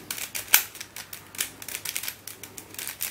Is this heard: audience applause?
no